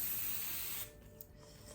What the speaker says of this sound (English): I guess that's why they call it frizz spray.